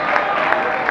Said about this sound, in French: Applaudissez plus fort s'il vous plaît